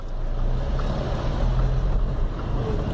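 Car engine pulling uphill, shifted from second into third gear and accelerating; a steady, loud low rumble with some wind noise continues throughout, with no talking.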